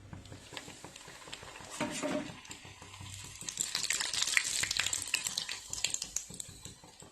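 Puris fry in hot sunflower oil in a wok, giving a soft, continuous sizzle and patter that grows busier midway through and stays fairly faint.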